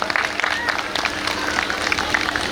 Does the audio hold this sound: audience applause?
yes